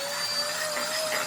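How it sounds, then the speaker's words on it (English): An electric hand mixer whirs steadily at high speed through pumpkin bread batter, a continuous close motor whine with a faint pitched tone and no breaks or voices. "I'm gonna use my mixer for a little bit because I think it needs to be more blended than this"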